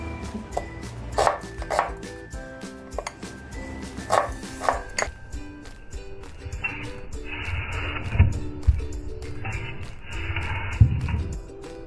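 A knife chops quickly on a board through onion, tomato, ginger, three chillies and coriander stems for a spicy Maharashtrian fish curry masala, with close, irregular bursts of sharp taps and a few clatters.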